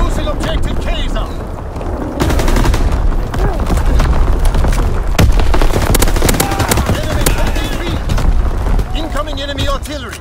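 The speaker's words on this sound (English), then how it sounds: "Enemy mortar fire incoming!" Heavy mortar and artillery fire in Call of Duty WW2 on the Shipment map, with continuous booming blasts and rattling machine-gun bursts layered densely throughout, while shouted in-game voice callouts cut through the chaos.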